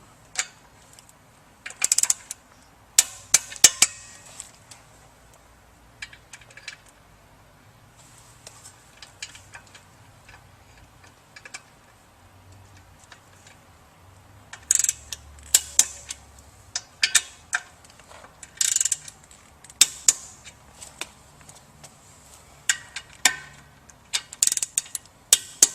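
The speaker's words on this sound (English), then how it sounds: "we'll go ahead and torque down the motor bolts" Pump motor bolts are tightened with a ratchet or torque wrench, giving sparse, sharp metallic clicks and ratcheting bursts scattered irregularly over a quiet background.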